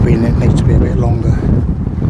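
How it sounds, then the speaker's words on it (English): Steady gusting wind outdoors in winter beside a campfire being built, a loud broad rushing roar buffeting the microphone throughout, with faint voices mixed in. "that wind is going to hamper me"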